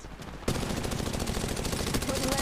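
Sudden bursts of rapid automatic gunfire in the video game Apex Legends Mobile erupt and keep going nonstop, loud and dense, with occasional sharper shots layered over the rattle.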